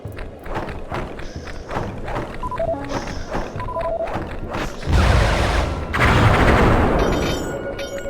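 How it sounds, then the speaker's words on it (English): Fireworks bursting in the Sly 3 video game, a run of thumping explosions and crackling blasts that swell louder toward the end, over game music with tonal chimes. "The more fireworks you prime, the more damage they'll do."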